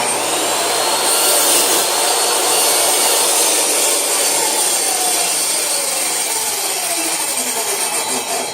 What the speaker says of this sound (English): I've got 20 degrees as a bevel cut as well, and just run that through real quick to see what that does.